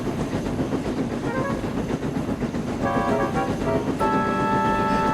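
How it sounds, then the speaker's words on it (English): A steam engine puffs along a railway line through falling snow with a steady, close rumbling clatter, and whistle-like tones ring out over it toward the end. "both Tomas and Toby puffed up and down the line with their passengers"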